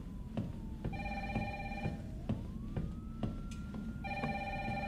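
A telephone rings in the video game Resident Evil 3, repeated bursts of an electronic ring over a low rumbling ambience and a faint siren-like wail, fairly quiet and alone.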